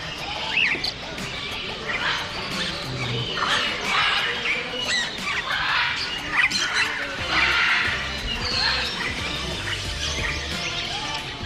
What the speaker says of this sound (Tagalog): Mga kakatil.